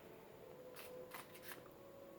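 Tarot cards shuffled in a few quick riffling bursts, soft and close over a steady faint hum, with no voices.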